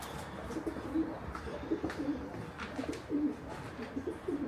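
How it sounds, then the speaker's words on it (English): Pigeons at a train station platform give soft, repeated low coos at a moderate distance over steady ambient station rumble. "Sounds like some birds or pigeons or something there, doesn't it?"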